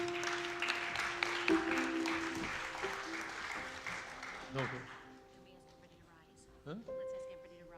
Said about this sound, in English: let me see you applaud her